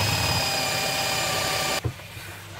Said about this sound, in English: It's just giving those little holes a nice little countersink edge and taking all those sharp bits off.